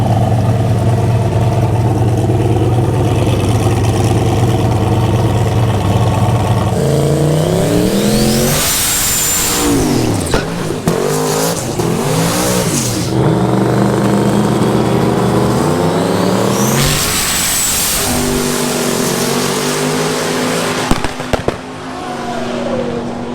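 Drag racing cars at LS Fest launch and scream down the track, loud and close, with engines rising through gears. A roaring idle gives way to repeated full-throttle pulls and sharp pops.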